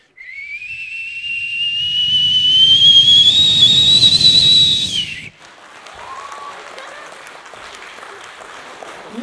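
A voice imitates a whistling kettle, a loud, rising high whistle held for about five seconds before cutting off abruptly, followed by quieter crowd noise.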